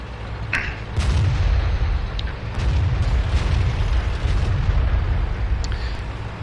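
AMX tank cannon fire and explosions in World of Tanks gameplay, a continuous heavy low rumble with a few sharp booming hits and pops standing out.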